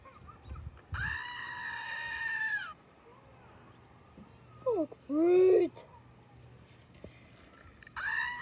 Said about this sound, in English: Screaming, greatest of all time, screaming goat.